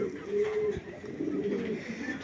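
Racing pigeons coo steadily in low, throaty murmurs, several birds overlapping close by, with a brief thump midway.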